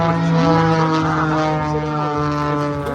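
Aerobatic stunt plane performing at an air show in Sacramento, California, its propeller engine droning loud and steady, the pitch sliding up and down as it maneuvers through the aerobatic box.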